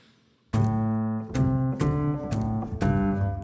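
Dark, intimate Kontakt Noir piano with audible hammer noise, a few chords struck one after another and left ringing, close and moderately loud with no voices.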